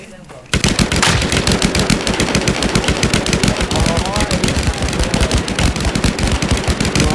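Rapid, continuous gunfire in a Thai multiplayer battle-royale shooter, dense bursts of automatic weapon shots firing nonstop after a short quiet start, loud and close, with players' voices mixed in.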